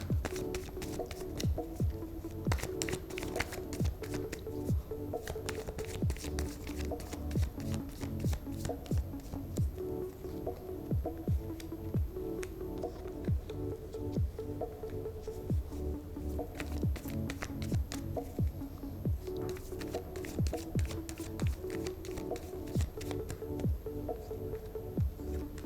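Tarot cards shuffled continuously by hand, a dense run of quick riffling flicks and slaps that keeps a steady pace throughout, close and fairly loud with no talk over it.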